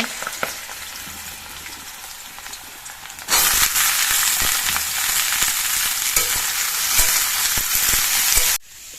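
Potato and pointed gourd pieces fry in a pan in a home kitchen, a soft crackle that jumps into a loud, dense sizzle with scattered pops and stirring, then cuts off abruptly near the end.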